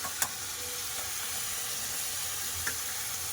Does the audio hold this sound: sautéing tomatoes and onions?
yes